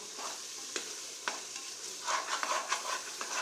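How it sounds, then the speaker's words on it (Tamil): Chicken biryani frying in a pan is stirred with repeated scraping strokes over a soft, continuous sizzle, heard close with no talking. "நல்லா அப்படியே பரட்டி விட்டுட்டே இருப்போம்"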